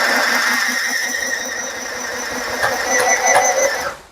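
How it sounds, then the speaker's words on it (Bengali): A portable electric sewing machine runs with a steady, close mechanical whir and a faint rhythmic clatter for about four seconds, then cuts off abruptly. "এই সিলাই মেশিনে এই যে এটা আমি রানিং করে দিলাম"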